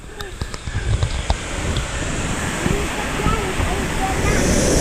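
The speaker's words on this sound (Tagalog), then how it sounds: "Let's go to the shower falls." A waterfall at the shower falls pours down as a loud, steady rush of splashing water. Voices are briefly heard near the start, then the roar continues alone.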